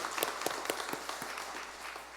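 A church congregation claps on Reformation Sunday, faint and somewhat distant, with a few sharp claps standing out at the start before settling into a soft, thinning patter.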